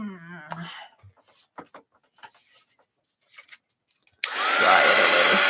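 A heat gun roars on loud and steady, blowing hot air over wet paint on a journal cover, starting abruptly after a stretch of soft voice and small handling rustles.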